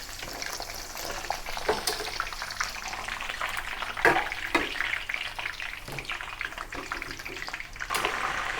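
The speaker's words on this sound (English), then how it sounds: "continue deep fry the next batch of the potatoes" Potatoes deep-fry in hot oil, sizzling and crackling steadily up close, a continuous bubbling fry with occasional sharper pops.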